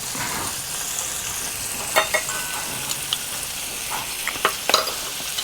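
Chilli crab sauce with tamarind concentrate sizzling in a hot pan while being stirred, a steady close frying hiss broken by scattered clinks and scrapes of the utensil.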